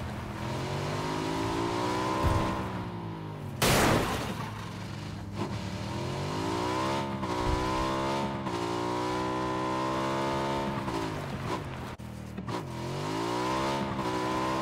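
A car engine driving in the PUBG video game, a continuous close motor drone whose pitch repeatedly rises and falls as it revs through gears, with a brief harsh burst of noise partway through.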